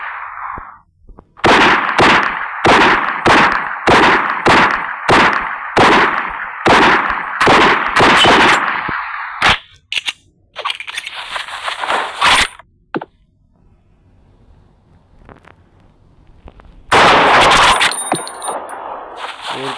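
Pistol shots in a shooting video game ring out as a fast, evenly spaced string of about a dozen sharp metallic cracks. A few scattered hits follow, then one more loud burst near the end.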